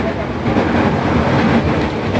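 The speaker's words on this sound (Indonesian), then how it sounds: "sekarang kita ada di dalam kereta" A steady, loud rumble fills the inside of a moving commuter train heading toward Tanjung Barat station, with dense low roar and rattling noise throughout and faint voices mixed into the din.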